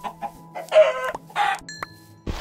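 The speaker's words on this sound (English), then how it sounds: "Hold on, there's more chickens." Several short bursts of video game chicken clucking with a few sharp electronic-sounding blips, close and fairly loud, no talking.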